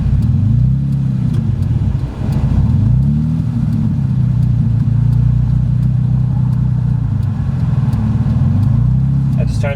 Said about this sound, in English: So I'm definitely having trouble with this idle.